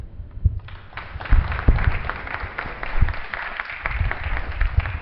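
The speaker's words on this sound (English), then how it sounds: "Give a round of applause again to our panelists" A panel-discussion audience applauds the panelists, uneven clapping that swells and dips over a few seconds in an indoor hall, with some murmuring.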